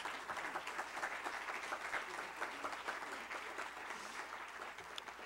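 An audience at a screenwriting master lecture applauds for Adriana Jiménez, dense steady clapping that goes on for several seconds and is heard from a short distance without speech.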